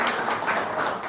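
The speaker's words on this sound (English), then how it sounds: "So give her a round of applause for that." Audience applause at a Lincoln startup meetup, a dense, steady wash of clapping from a room of people that holds evenly for the whole moment without letting up.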